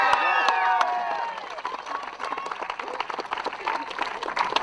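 Crowd cheering and applause for a girls under-16 coxed quad crew at a New Zealand secondary school rowing championship, opening with loud shouts and whistles that settle into sustained clapping.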